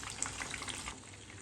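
Chicken leg pieces fry in hot oil with a dense, steady bubbling hiss, faint and close, lasting a short moment without any talk.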